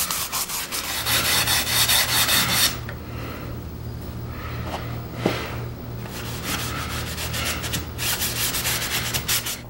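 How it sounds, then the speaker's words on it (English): Wax rubbed by hand onto the inside of a small wooden box and the underside of its sliding lid, a steady close scratchy rubbing with brief pauses and a low hum beneath it throughout. "so I'll wax the inside and the bottom of the lid as well"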